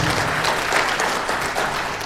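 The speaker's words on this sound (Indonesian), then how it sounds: "Hari ini tepuk tangan untuk Bapak." Audience applause at a team gathering in Nusa Tenggara Timur: dense, steady clapping from a crowd fills the whole stretch at an even loudness, with no voices over it.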